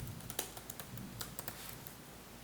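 Someone types on a computer keyboard while coding a Rails blog app, a close, quick patter of irregular key clicks with a few louder taps over a faint room hum.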